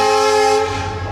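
A loud, sustained diesel train horn blares close by as a passenger train pulls into New Haflong Junction in the Assam hills, one long tonal blast that fades toward the end.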